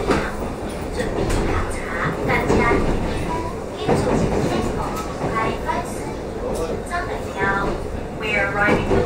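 TRA local express train on the North-link line pulling into Hualien terminus, a steady low rumble of the carriage with faint rhythmic clatter beneath continuous onboard announcements and talk.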